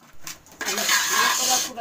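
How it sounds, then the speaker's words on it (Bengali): Meat being sautéed (kosha) in a pot for a home-cooked festive meal, a bright steady sizzle rising after a brief lull, with scraping and clinking of a spoon against the pot, close and fairly loud. "এখন মাংসটা আমি কষাচ্ছি"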